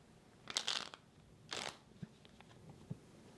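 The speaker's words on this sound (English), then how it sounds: "One more shuffle, guys." Two quick riffling bursts of tarot cards being shuffled, close and crisp, followed by a few soft taps as the deck is squared up.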